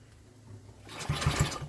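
An old engine with the choke on being cranked, a brief rough burst of mechanical churning that rises suddenly near the end after a quiet start.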